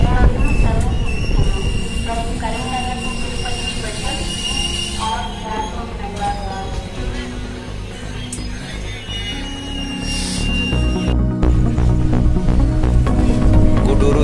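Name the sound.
train arriving at Gudur railway junction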